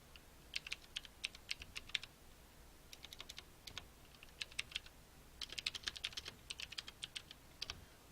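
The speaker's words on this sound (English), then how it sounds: "So let's just type that in." Keys tapped on a computer keyboard while entering a search query in a web browser, in two quick bursts of close, crisp clicks separated by short pauses, with no voices.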